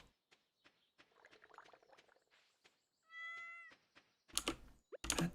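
Cartoon cat meows from the Stardew Valley farming game, a bright tonal meow standing out among soft game clicks and interface blips, followed by louder bursts of game noise.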